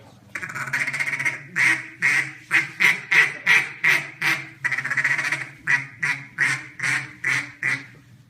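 A rapid series of loud, nasal mallard duck quacks from a duck call, in quick rhythmic bursts with a brief pause midway, close and alone.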